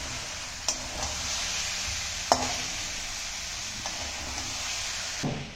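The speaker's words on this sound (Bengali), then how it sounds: "মশলার মধ্যে যে পেঁয়াজ, আদা, জিরে, ধনের গুঁড়ো, লঙ্কার গুঁড়ো, নুন, হলুদ, এখন এইগুলো দিয়ে ভালো করে কষাবো" Onion, ginger, cumin, coriander, chilli powder, salt and turmeric sauté in a pan with a constant close hiss of frying, punctuated by a few sharp stirring clicks and scrapes.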